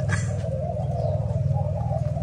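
A Malaysian spotted dove coos in a soft, steady, low repeating pattern close by, with faint background hiss.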